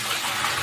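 Water poured from a charvi pot for making sweet and spicy pani puri water, a brief, steady rushing gush heard close up with no voices.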